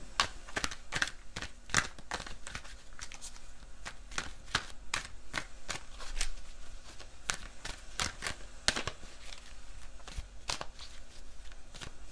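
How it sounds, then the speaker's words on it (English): Oracle cards being shuffled by hand, a rapid series of crisp riffling slaps and flicks repeating throughout, close and fairly loud with no talk. "let's pick one card from the Wisdom of the Oracle"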